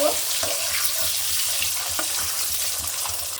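A boiled egg with a slit cut into it and a little turmeric frying in a pan, a constant close hissing sizzle with faint crackles and small clinks throughout, no talking.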